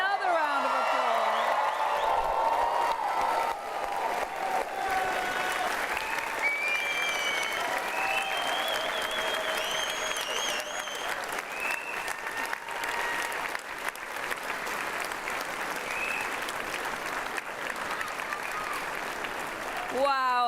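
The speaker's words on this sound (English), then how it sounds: "Another round of applause." A large crowd at a university graduation ceremony gives long, continuous applause, dense and loud throughout, with occasional whoops and cheers and a voice speaking briefly over it.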